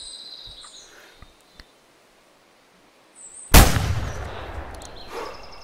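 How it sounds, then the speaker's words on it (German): A single loud, close .44 revolver shot rings out in theHunter while hunting wapiti, echoing and decaying over about two seconds after a quiet stretch of faint birds and insects. "deshalb schießen wir den jetzt,"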